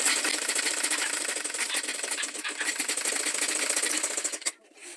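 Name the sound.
sewing machine stitching a tote bag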